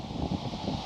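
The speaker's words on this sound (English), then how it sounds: "Woo, windy again." Steady, low wind rush buffets the microphone while someone rides a scooter outdoors along a country road, a continuous dull roar with no talk.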